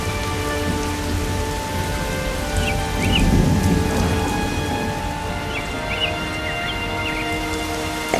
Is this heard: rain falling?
yes